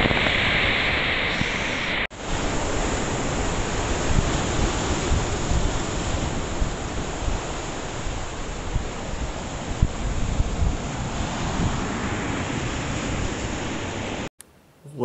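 Ocean waves wash onto a Maine shoreline as a steady, loud broadband roar mixed with wind buffeting the microphone, swelling and easing over several seconds before an abrupt cut.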